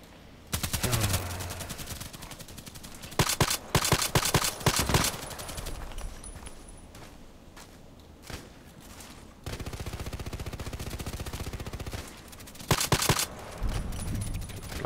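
A Mosin Nagant rifle fires in a string of loud, sharp cracks, some spaced apart and some in quick clusters, with echoing tails between the shots.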